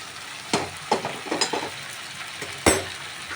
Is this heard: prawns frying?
yes